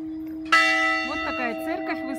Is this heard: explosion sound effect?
no